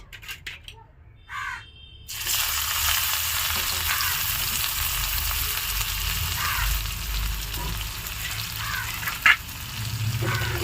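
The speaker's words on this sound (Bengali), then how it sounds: "তেলও দিয়ে দিয়েছি এইবার এতে দিয়ে দেবো পেঁয়াজ" Onions hit hot oil in a kadai for palak chicken and set off a loud, steady sizzle that runs on after a quieter start, with crows cawing now and then in the background.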